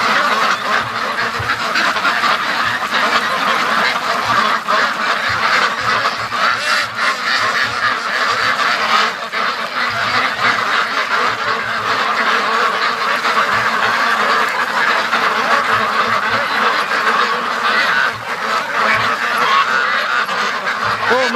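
Muscovy ducks and other domestic ducks call outdoors near a lake, a dense, steady, loud chorus of quacking and honking that continues for the full duration with no pauses.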